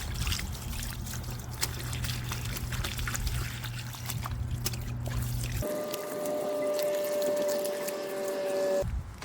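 Running water rinses soap out of old sneakers, a steady splashing, trickling flow close by that changes tone partway through as the stream shifts, continuing without talk.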